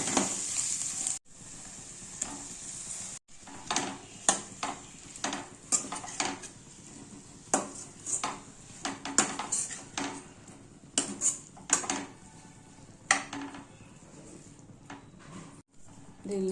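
Tomatoes stirred into a pan with biryani masala for Telugu tomato rice, giving repeated clinks and scrapes of a utensil against the pan over a faint sizzle throughout.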